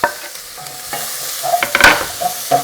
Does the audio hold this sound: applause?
no